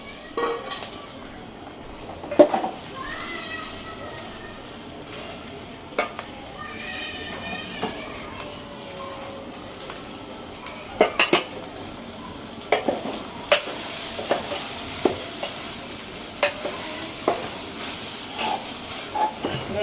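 Leftover cooked rice is stirred in a hot pan, with repeated scraping and clinking strokes of a spoon against the metal over a low frying crackle. A voice murmurs faintly now and then.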